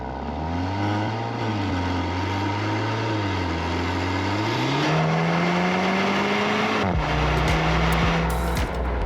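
A Volkswagen Tiguan R with a four-tip Akrapovic exhaust revs up and down several times, then settles into a rising, steady drone before the engine cuts and a few sharp pops follow, loud and close with no talk.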